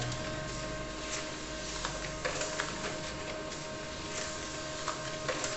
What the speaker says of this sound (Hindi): तो देखिए प्रिंट निकलना शुरू हो चुका है।